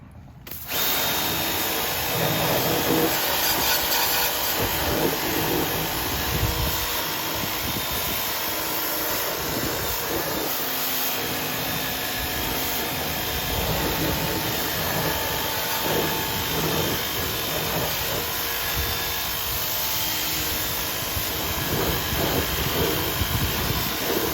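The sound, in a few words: DeWalt DCPW550P1 power washer running on high setting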